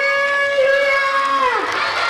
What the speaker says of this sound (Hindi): जोरदार तरीके से ताली के साथ बोलेंगे